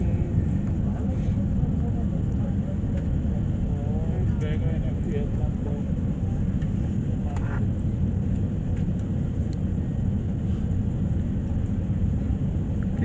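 A passenger plane lands at Jakarta Tangerang airport, heard from inside the cabin as a loud, continuous engine and airflow roar that holds steady throughout while passengers talk quietly beneath it.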